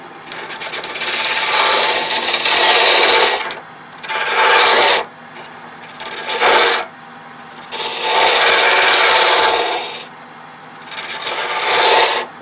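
A repurposed Harbor Freight scraper, about 1/4 inch thick, cuts a wooden mushroom box spinning on a lathe, giving loud, close raspy scraping in five bursts of varying length separated by short pauses under the lathe's hum.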